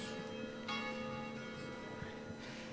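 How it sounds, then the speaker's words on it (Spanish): Church bells ring through a quiet indoor room, a sustained metallic tone with a couple of brighter strikes, steady and moderately distant, with no talking. "Dejamos sonar las campanas."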